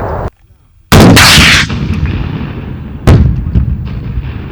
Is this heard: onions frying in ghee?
no